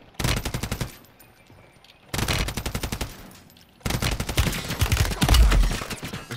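Call of Duty gunfire in three long automatic bursts separated by short pauses, loud and close, with the final burst the heaviest and no talking over it.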